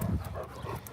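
A dog pants in quick, soft breaths for a moment, close by and fairly quiet.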